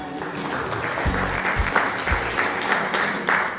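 An audience at an evening event applauds steadily, a dense wash of clapping with a few louder thumps and a faint voice underneath.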